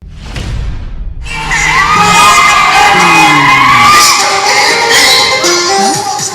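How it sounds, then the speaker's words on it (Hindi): A crowd of hundreds shouts and cheers loudly and without pause, with excited voices and whoops rising together close by after a short burst of noise at the start. "सैकड़ों की भीड़, गानों के बोल पर झूमते लोग।"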